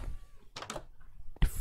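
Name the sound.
cat meowing in a video game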